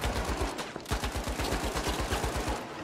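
Hip-fire gunshots in a shooter video game, a steady rapid stream of loud automatic shots with an even pulsing rhythm throughout.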